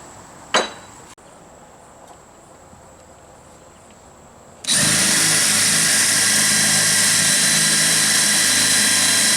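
A power drill bores pilot holes through wooden boards for a shield, starting after a brief clunk and a few seconds of quiet, then whirring loudly and continuously to the end.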